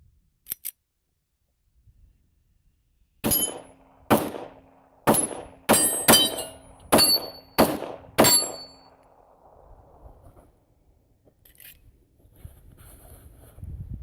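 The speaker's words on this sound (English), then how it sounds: "Besides all that griping, I still love the gun. So let's just shoot it." A Springfield TRP pistol fires 200 grain semi-wadcutter reloads: seven sharp, loud shots close by in a fairly quick, uneven string, followed by quiet with faint handling noise.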